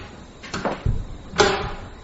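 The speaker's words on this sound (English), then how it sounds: "Close the door, Mr. Edwards" A door being closed in a Victorian-era BBC radio drama, The Haverstock Hill Murder: a soft swish and scrape of movement followed by a dull thump, then a second sliding, latching sound, fairly close.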